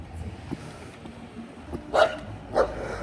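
A dog gives two short, sharp barks about half a second apart, set against a low background murmur with no talking.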